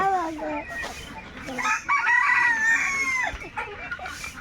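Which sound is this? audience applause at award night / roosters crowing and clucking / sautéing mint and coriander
roosters crowing and clucking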